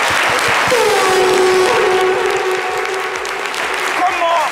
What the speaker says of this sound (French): vous allez les applaudir